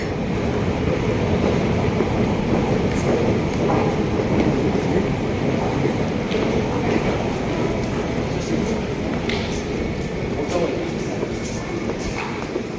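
An Elizabeth line train in London rumbles steadily nearby at a station, its wheels and carriages producing a continuous roar with occasional clicks and clanks.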